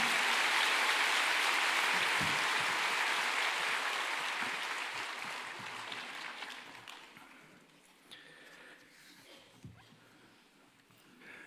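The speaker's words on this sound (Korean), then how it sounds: "우리 박수로 주님께 감사함을 환영하겠습니다." A church congregation claps to welcome a pastor, loud at first and then slowly fading away to a few scattered claps and quiet rustling.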